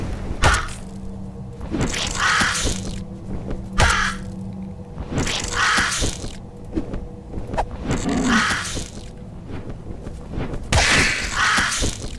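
A crow in the video game Falter Z caws repeatedly in loud, harsh bursts spaced a couple of seconds apart, with soft thuds and game background sounds underneath.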